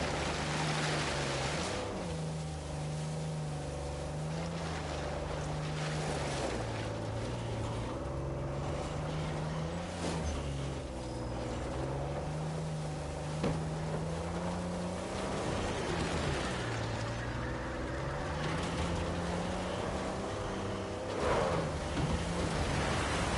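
A waterfall in Uncharted 4 gives a continuous, loud, broad rush of falling water with a low droning hum beneath it that holds steady throughout.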